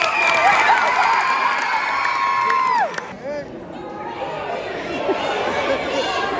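A crowd at a live stage show cheers, whoops and chatters in a loud, continuous wash of voices, with a high sustained yell that drops off midway before the noisy crowd continues.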